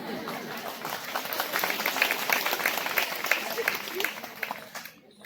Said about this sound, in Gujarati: આ બધા બાળકોને એકવાર જોરદાર તાળીઓથી વધાવીએ.